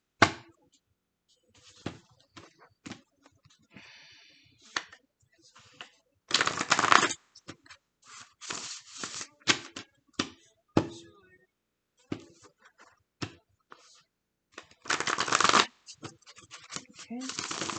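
Tarot cards being shuffled in a few short, dense riffling bursts, with quieter handling clicks between them and a voice talking in the gaps.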